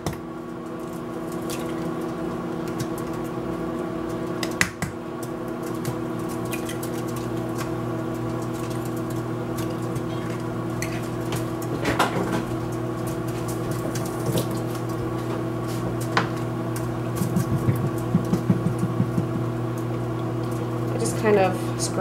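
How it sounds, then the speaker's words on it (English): A steady electric hum of a running microwave oven cooking bacon continues throughout, with occasional small pops, clicks and kitchen clatter nearby. "So, bacon's in the microwave."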